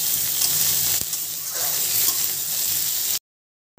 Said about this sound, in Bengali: হালকা আছে ভেজে নিচ্ছি